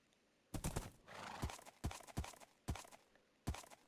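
Horse in the Minecraft video game, its clip-clop hoof steps and short whinnying snorts coming in loud, evenly spaced bursts about every half second against a quiet background.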